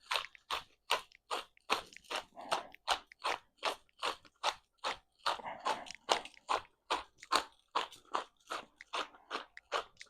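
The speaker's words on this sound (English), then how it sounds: "we're going to hit them with some fresh ground pepper" A pepper mill grinds fresh black pepper onto pork chops beside a drum smoker, making a steady run of about twenty close, evenly spaced crunchy grinding bursts with no talking.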